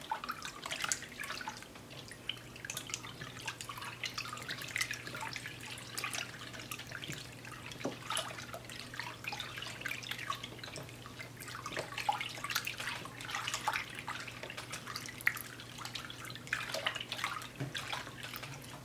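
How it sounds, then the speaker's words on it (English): Raw hair extensions being swished around in a basin of water with conditioner, continuous soft sloshing and dripping at close range, steady throughout with no talking. "And then I am going to swish it around."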